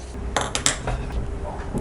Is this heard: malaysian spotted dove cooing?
no